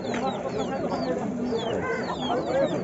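Roosters and chickens cluck and crow at a busy livestock market, a dense continuous din of poultry calls mixed with overlapping talk and crowd noise nearby.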